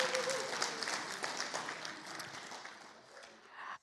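An audience at a speaking event applauds warmly, a steady wash of clapping that holds for a few seconds before tapering off.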